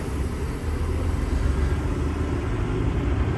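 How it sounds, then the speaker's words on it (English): A truck with a 10-speed manual gearbox pulls away using only the clutch, with no throttle, giving a steady, close, low engine rumble. "now we're gonna start getting moving. I'm only using the clutch."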